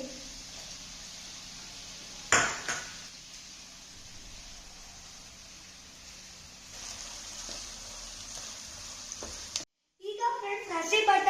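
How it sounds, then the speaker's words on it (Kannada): Capsicum being added to a hot pan and stirred, a steady sizzle of frying throughout with sharp clatters from the spoon, a brief surge of crackling near the end. "ಈಗ ಫ್ರೆಂಡ್ಸ್ ನಾನು ಕ್ಯಾಪ್ಸಿಕಮ್ ಹಾಕ್ತಾ ಇದ್ದೀನಿ"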